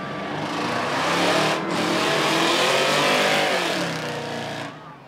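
A Jeep and a big Chevy truck drag race side by side at night at Rockford Speedway's spectator drags, engines roaring loud and strained under hard acceleration, with pitch climbing and dipping as the tires slip.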